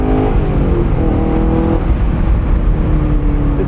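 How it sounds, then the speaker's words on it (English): A 2017 Chevrolet Camaro 2SS manual convertible drones with a low, steady exhaust rumble from inside the car, a smooth even tone without pops or burbles. "These 2017 Camaros had a little bit more of a low-key exhaust back then than they do now."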